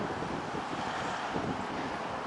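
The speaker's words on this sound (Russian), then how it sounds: "Такой ветер приятный, травой пахнет." Warm summer wind blowing outdoors near grass in Komsomolsk-on-Amur, Khabarovsk Krai, a steady broadband rush with gusty buffeting on the microphone, continuous and fairly loud throughout.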